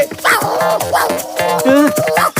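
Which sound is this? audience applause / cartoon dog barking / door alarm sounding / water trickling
cartoon dog barking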